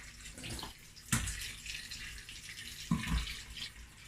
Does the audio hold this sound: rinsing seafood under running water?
yes